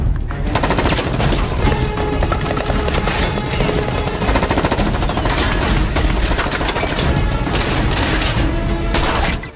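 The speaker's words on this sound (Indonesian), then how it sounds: "baku tembak pun tak bisa dihindari" Movie gunfight erupts with dense, continuous machine gun fire, rapid overlapping bursts and sharp cracks filling the scene loudly for the whole stretch.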